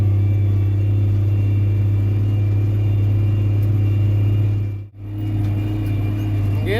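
An IH 3588 tractor pulling a CIH 955 16-row planter through a field at over 5 mph gives a steady, loud low engine drone with a strong constant hum and a brief dip near the end.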